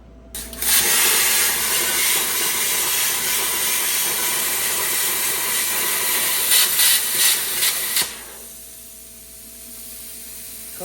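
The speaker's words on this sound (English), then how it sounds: "So I'm getting ready to come use the old Cut 60 prime weld on it," A Cut 60 plasma cutter slices through the metal of a '68 Impala with a loud, continuous hissing rush that lasts about seven seconds and then stops, leaving a faint hum.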